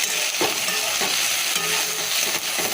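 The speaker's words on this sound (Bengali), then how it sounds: "অল্প দুটো উচ্ছে দিয়ে আলু দিয়ে ভাজা রেখেছি" Bitter gourd and potatoes fry in a pan with a steady broadband sizzle, while a utensil stirs and scrapes through them in a few soft, irregular strokes; the sound stays close and even throughout, with no voices.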